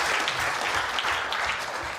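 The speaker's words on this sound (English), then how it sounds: "Round of applause." A studio audience gives a round of applause, a dense continuous patter of many hands clapping at an even level throughout, with no voices above it.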